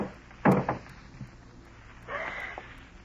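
A garage door being lifted in a radio drama effect: a wooden thump and scrape, then a rolling rumble as the door slides up, fairly quiet with a few softer knocks.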